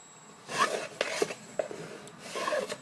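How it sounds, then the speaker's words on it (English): A glued piece being burnished down by hand onto a drawer base for a multi-compartment organiser, giving several short, close rubbing and rasping strokes with brief pauses between them. "burnish it down."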